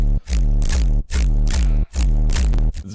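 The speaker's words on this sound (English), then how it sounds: "It's really super blown out bass." Heavily blown-out, resampled dubstep bass pounds in three loud, distorted bursts separated by brief gaps, each with a gritty, pitch-bending growl.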